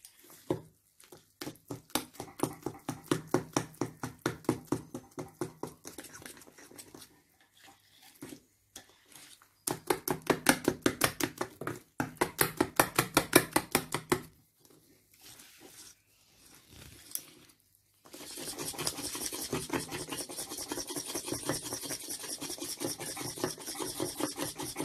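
Basbousa batter ingredients, baking powder among them, being mixed by hand, with bursts of rapid, rhythmic scraping and rasping against a bowl, separated by short pauses and followed by steadier, denser mixing toward the end.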